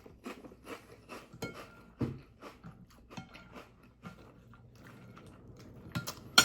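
Crunchy Frosted Flakes corn cereal with milk chewed close to the mic, with a series of wet, crisp bites and munches coming in irregular bursts, a louder crunch standing out near the end.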